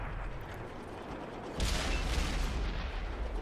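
In a tank video game, the player's RONIN 47R tank fires a single loud, booming cannon shot about halfway through, which rolls on over steady battlefield rumble.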